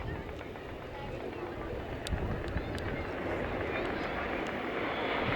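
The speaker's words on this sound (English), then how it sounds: "This lone jet will now fly in between them." A Red Arrows jet flies past at the 2015 Clacton airshow, a steady broad roar of engine noise that swells slightly as it passes, with crowd and commentary voices faint underneath.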